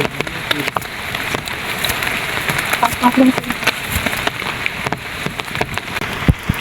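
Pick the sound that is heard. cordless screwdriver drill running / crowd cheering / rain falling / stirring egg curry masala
rain falling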